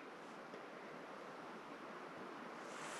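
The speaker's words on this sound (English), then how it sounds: "lie awake and just listen to the wind" Wind rushing steadily through a forest at night on Dartmoor in winter, a continuous broad roar that swells slightly toward the end, with no voices.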